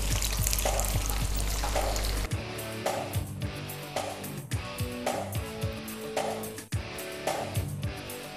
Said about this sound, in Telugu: నూనె వేడెక్కింది కదా, ఇందులో ఇలా వడలుగా వేసుకోవాలన్నమాట